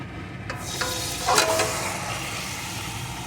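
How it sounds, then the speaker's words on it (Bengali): Salt-and-turmeric-marinated pabda fish frying in a kadai, a steady, close, loud sizzle with a few brief stirring clinks and no talking. "এখানে আমি একটা কড়া নিয়ে নিয়েছি এর ভিতরে প্রথমে আমি লবণ হলুদ মাখানো পাবদা মাছটা দিয়ে দেব"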